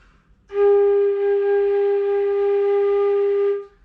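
A single sustained low G flute note holds steady for about three seconds, clear and breathy, starting and stopping cleanly in quiet surroundings.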